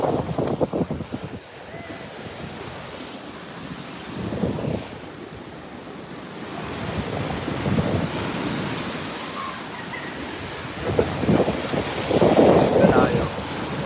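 Ocean waves roll and break at a beach resort in Real, Quezon, with surges of surf rising and falling through heavy wind buffeting on the microphone.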